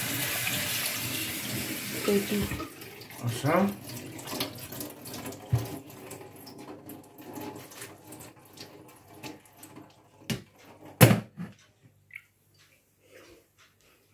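Cold tap water runs from a kitchen faucet over cooked noodles for a Chinese-style soup with salmon and shrimp, a steady near splashing stream that fades out, with a few brief words spoken.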